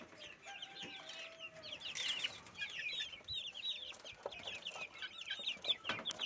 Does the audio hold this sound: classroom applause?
no